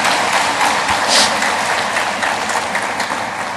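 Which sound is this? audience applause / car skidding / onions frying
audience applause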